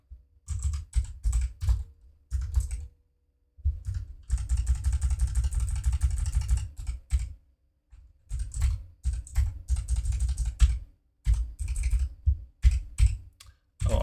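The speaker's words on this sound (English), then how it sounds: "unfiltered keyboard sounds" Someone types on a computer keyboard in close, bursty runs of rapid clicks separated by short pauses, with one longer unbroken stretch of fast keystrokes, clear and with no talking.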